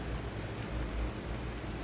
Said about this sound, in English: Love the rain, don't you?